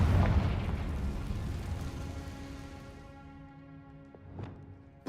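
A Confringo explosive spell cast in Hogwarts Legacy, a loud burst at the start that fades into a long rumbling decay, followed by a faint tonal whoosh and a smaller pop near the end.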